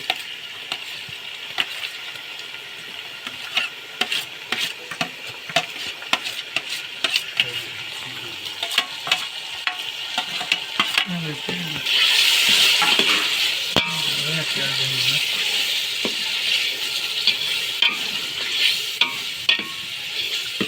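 Onion fries in a pan for Punjabi tikhari, giving a constant crackling sizzle with sharp stirring clicks and scrapes throughout. The sizzle briefly swells louder about halfway through.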